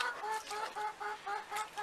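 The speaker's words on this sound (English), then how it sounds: "Martha Washington is a rooster" Red sex-link hens and a rooster on a small farm cluck close by in quick, repeated bursts of throaty calls with short gaps between them.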